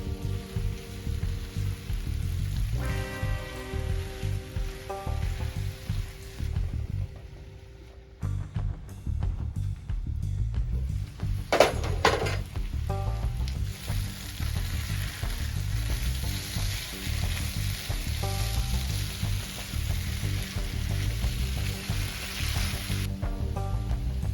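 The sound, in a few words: potatoes cooking in Diablo sauce in a covered pan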